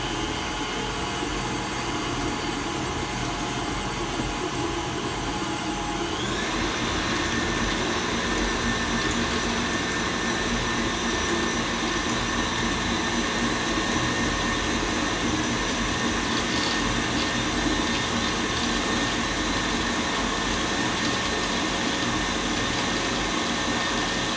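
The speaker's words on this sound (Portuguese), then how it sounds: "Vou ligar a batedeira, gente." An electric stand mixer beats cookie batter in a home kitchen, giving a continuous loud motor whine with a faint rattle. It runs steadily throughout, with a slight shift in pitch early on and no speech over it.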